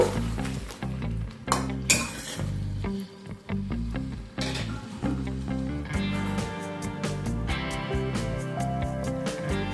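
Chicken being stirred in a covered pot while it cooks down, with spoon clinks and scraping against the metal and a steady sizzle underneath.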